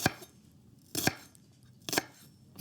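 A knife chops a red onion on a cutting board in three crisp, evenly spaced strikes about a second apart, close and distinct with quiet pauses between.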